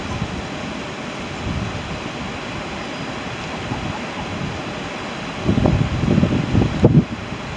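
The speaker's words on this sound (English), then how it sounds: "Hopefully you can hear me with this wind." Strong wind blowing across an outdoor farm with gardens, goats and pigs, a steady loud roar buffeting the microphone, with a brief gustier rustle near the end.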